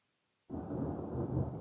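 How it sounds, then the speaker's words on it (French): Thunderstorm heard from inside a camper van: after a brief silence, a loud, dense rumble of thunder and heavy rain sets in suddenly and holds steady, close and enveloping, with no voices. "Waouh, j'adore l'orage comme ça dans le camion."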